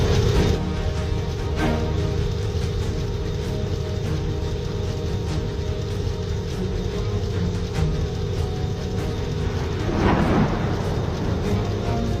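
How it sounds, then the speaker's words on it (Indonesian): Steady heavy roar of a storm with dense rain noise and low rumbling throughout, continuous and loud, with a brief swell near the end. "Gue juga tahu ini kayaknya badai, Tang."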